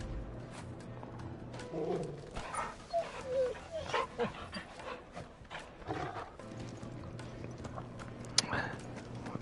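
A dog indoors gives faint, scattered whines and yips in uneven bursts over a low, busy room background.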